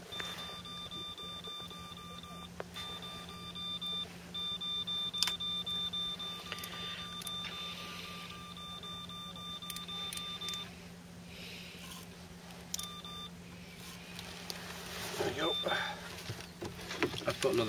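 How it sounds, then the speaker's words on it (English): A boat's depth alarm sounds on a lake during October pike trolling, a series of short electronic beeps in bursts over a steady engine hum, with occasional talk. "That's the depth alarm"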